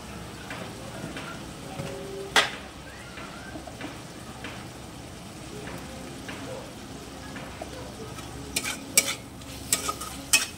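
Soft frying sizzle in a pan with scraping and tapping from a spoon stirring, a few sharper clinks near the end, as turmeric powder is added to the frying mixture.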